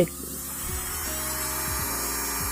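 Electric nail drill running steadily at speed 30, a continuous close whirring hum with an airy, wind-like hiss that holds even throughout.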